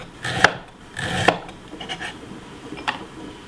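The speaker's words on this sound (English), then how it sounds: "Now let's slice the ginger." A knife slices through ginger on a cutting board in a few crisp, close chops with scraping rubs between them, two sharp strokes early followed by lighter cuts, no talking.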